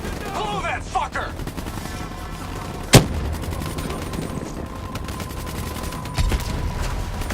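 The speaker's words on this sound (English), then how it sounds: "Detonation confirmed." A detonation in the video game Call of Duty Black Ops 3 cracks out as one sharp, loud blast amid ongoing gunfire and rumble, with smaller thuds before and after.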